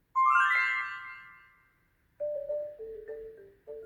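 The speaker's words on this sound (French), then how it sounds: "il te suffit de tourner la page à chaque fois que tu entends cette petite musique" A short musical jingle cues a page turn in a French children's audiobook: a bright rising chime flourish rings out and fades, then after a brief pause a few clear sustained tones play.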